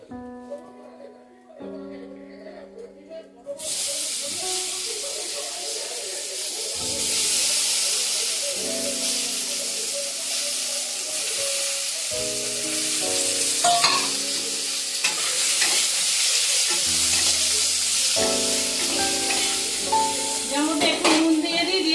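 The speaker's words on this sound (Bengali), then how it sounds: "আমি এই পটল আর আলুটাকেও ভেজে নেব।" Pointed gourd and potato pieces fry in oil left over from frying fish, a continuous close sizzle and hiss with stirring scrapes, running steadily beneath tonal background music.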